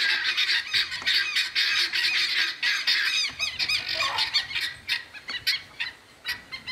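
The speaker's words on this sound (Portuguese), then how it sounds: "Ali as galinhas da Angola." A flock of helmeted guineafowl on a rural farm keeps up loud, dense, overlapping harsh calls and squawks, close by and continuous with no talking.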